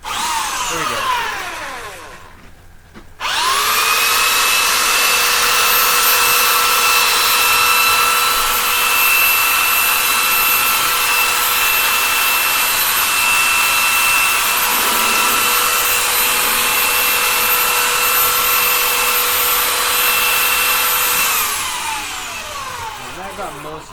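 Compressed air blasting sand out of a sand casting frame, a loud steady high-pitched hiss that starts abruptly after a brief pause, holds for nearly twenty seconds, then fades out.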